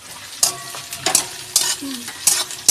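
Food stirred and fried in a home kitchen pan, with sizzling under repeated scraping stir strokes at close range, each stroke a sharp burst over a steady hiss.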